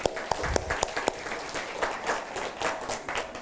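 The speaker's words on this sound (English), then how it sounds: "so give yourselves a round of applause." A crowd of fathers and families applauds at a school-based clinic grand opening, with sharp individual claps standing out over a steady, moderately loud stream of many hands.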